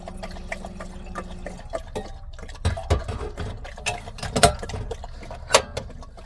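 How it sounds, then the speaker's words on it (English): Water poured into a kettle at a coastal vanlife meet-up, a steady filling sound near the start followed by clinks, drips and handling knocks, fairly close and with no talk. "Got a bit of water in that kettle"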